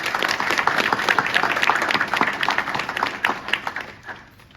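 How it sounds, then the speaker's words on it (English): Audience applause at a state police plaque dedication ceremony in a high school, dense steady clapping from a crowd that fades away near the end. "So let's give him a round of applause for the work that he does for our district."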